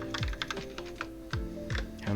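Rapid clicking of computer keyboard keys in irregular bursts, close and fairly loud, with a voice murmuring intermittently over the typing.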